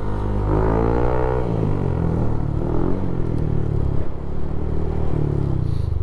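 A motorcycle fitted with a CRP Power Pipe exhaust idles and revs with a deep, crackly backtone, a loud continuous rumble that rises and falls close by.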